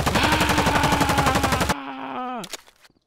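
A fast automatic burst of gunfire in the video game Rec Room, loud and close, rattling steadily for under two seconds before cutting off into a quieter tail with a falling, groan-like tone.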